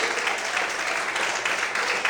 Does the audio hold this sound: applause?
yes